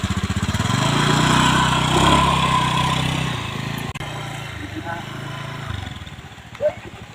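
A motorcycle engine idles with a steady low chug that is loud for the first few seconds and then drops back, while voices talk over it during a roadside robbery scene.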